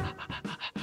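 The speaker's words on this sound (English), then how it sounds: "is that my dog? Is that my dog?" Rhythmic dog panting in the Minecraft video game, six quick breathy pulses in steady succession, close and moderately loud with no voices over it.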